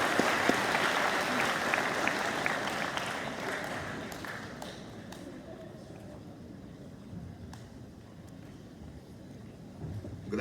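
Applause from the crowd at a high school awards ceremony for students, loud at first and then slowly fading to a thinner patter, with some clicks and thumps near the end.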